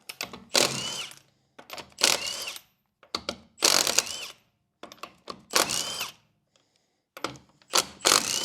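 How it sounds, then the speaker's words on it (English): A power tool whirs in short repeated bursts while removing a wheel from a Volkswagen Beetle, each burst loud and close, with brief silent gaps between them. "Let's get this wheel off."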